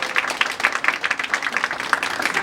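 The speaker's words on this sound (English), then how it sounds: "Let's give them all a round of applause" Applause at a school PTA meeting, a brief burst of many hands clapping in a steady crackle with no talking over it.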